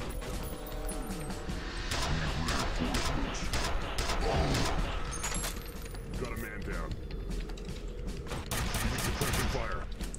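Rapid enemy gunfire in the shooter F.E.A.R. Perseus Mandate, dense bursts cracking continuously through the whole stretch at close range amid clattering mechanical impacts, with speech mixed in.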